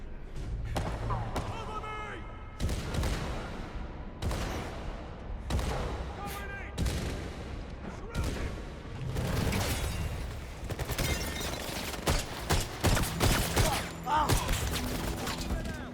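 Gunfire and impacts ring out in the video game 007 First Light. Heavy shots and thuds come in repeated bursts over a steady game soundscape, and a player talks at times over the action.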